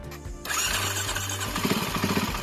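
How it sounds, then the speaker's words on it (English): An electric starter whirs briefly, then a Cannondale MX400 motorcycle engine catches and runs with a rough, revving rumble close by. "Cannondale decided to add an electric starter to its motorcycle"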